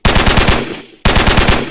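Rapid automatic gunfire from a Unity third-person shooter game, two loud bursts of evenly spaced shots separated by a brief gap, with no talk over it.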